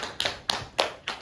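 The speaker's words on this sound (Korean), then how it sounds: "발표 잘해준 선혜한테 박수." Young children in a kindergarten classroom clap for a classmate after her presentation, four sharp, evenly spaced bursts of clapping, close and fairly quiet.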